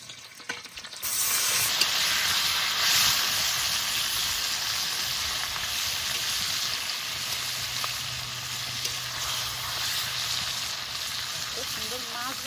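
Hilsa fish and slit green chillies hit hot oil in a wok with a sudden loud hiss, settling into a dense, continuous frying sizzle with occasional stirring.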